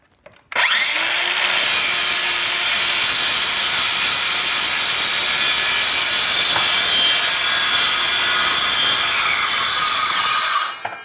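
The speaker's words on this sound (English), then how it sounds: "Make a cut and then come down to that and make another cut." A table saw cuts wood for a wood duck nesting box, starting abruptly into a loud, continuous, high whining rip that holds steady for about ten seconds before spinning down.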